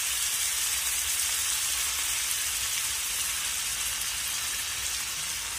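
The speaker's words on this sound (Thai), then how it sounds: "ก็เหมือนผัดผักบุ้งไฟแดงนะครับ" Stevia shoots stir-frying in a hot wok with oyster sauce and soy sauce, a steady loud hissing sizzle that holds unbroken throughout, with no talking.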